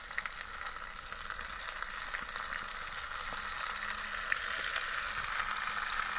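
Chicken added to a pan of fully browned fried onions, frying with a soft, even hiss that holds steady and slightly builds in intensity, heard nearby with occasional faint stirring clicks and no voices.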